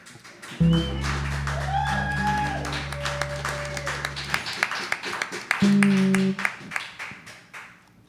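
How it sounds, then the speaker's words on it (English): Audience applause for a performer named Robert, a steady burst of clapping mixed with loud sustained musical tones, fading into scattered claps, then a second swell of clapping with music near the end. "why don't you just come up here and we can applaud you"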